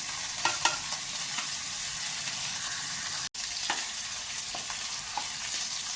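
Steady sizzling of onions, garlic and ginger frying in a pan, close and loud, with occasional stirring scrapes and a brief cut in the middle.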